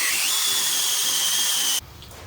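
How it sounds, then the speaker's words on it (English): A reamer in a power drill reaming out a metal hub on a Jeep FSJ Cherokee Chief for larger lug studs, a loud high-pitched whining grind held steadily up close that cuts off sharply near the end. "I'm going to take that reamer and just pretty much just ream this out until this will fit."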